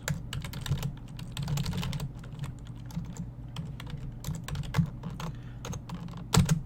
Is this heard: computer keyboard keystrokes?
yes